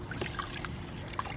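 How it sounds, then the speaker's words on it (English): Warm water trickles and drips as a cleaning cloth is dipped into a bucket while cleaning a car windshield, a brief close, soft splashing with small dribbles. "I'm just gonna dip this in water again here."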